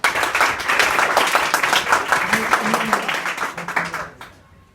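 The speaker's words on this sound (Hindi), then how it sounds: "रेनू के लिए ताली बजाए।" School students at Bal Vikas Higher Secondary School in Shahgard clap for a classmate named Renu, a lively burst of many hands that holds steady, then thins out and fades near the end.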